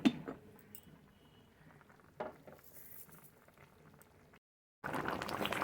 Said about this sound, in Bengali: দেখছেন কি সুন্দর ফুটছে